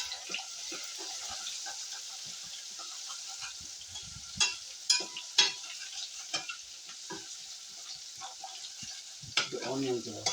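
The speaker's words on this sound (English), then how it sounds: "the onions are beginning to brown" Onions frying and sizzling in a pan, a steady broadband hiss with a few louder stirring clatters and scrapes partway through and near the end.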